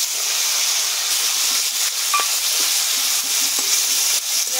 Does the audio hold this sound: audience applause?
no